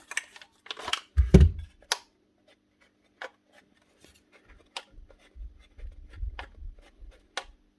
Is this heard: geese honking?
no